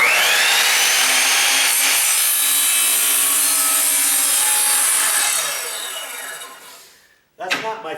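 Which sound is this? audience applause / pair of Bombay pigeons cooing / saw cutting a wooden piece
saw cutting a wooden piece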